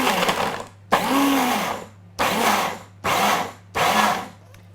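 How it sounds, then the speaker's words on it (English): A blender pulses Brazil nuts into fine dust for raw rocky road in five loud, close bursts of whirring grinding, each about a second long, separated by short pauses. "we're going to use the blender, pulse a few times until we make a nice fine dust out of the Brazil nuts"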